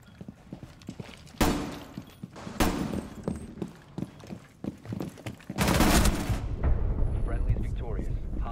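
Several sharp video game gunshots burst out, loud and separated, the last a longer blast, amid hoof-like clatter and game noise with voices talking quietly throughout.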